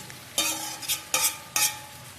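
Food frying in a pan is stirred in three or four quick scraping bursts over a soft sizzle, close and fairly loud, with no talk.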